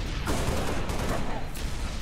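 Rapid game gunfire from Halo: Reach Firefight mode, a dense continuous rattle of shots with bursts of heavier blasts, loud and sustained throughout with faint voice underneath.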